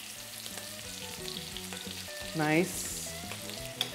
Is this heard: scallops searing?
yes